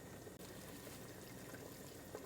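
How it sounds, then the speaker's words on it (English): Beer simmers with ground beef in a chili pot, making a faint, steady, soft bubbling with no talk. "So our beer is now bubbling"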